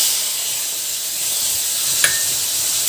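Tomatoes dropped into hot oil for Odia kalara chop, giving a loud, steady hiss of sizzling steam throughout, with a brief clink partway through and no talk.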